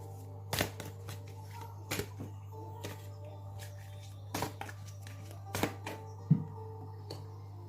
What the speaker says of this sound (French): je vais prendre 2 cartes pour vous de ce magnifique oracle